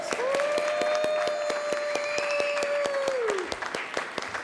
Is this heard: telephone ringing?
no